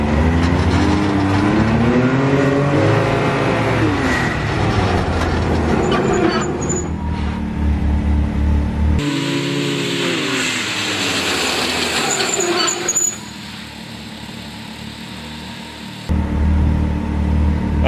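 A car runs a brake pad test with Swampdog brass pads: a loud, continuous road and engine roar whose tone shifts as it slows, with abrupt changes in level partway through.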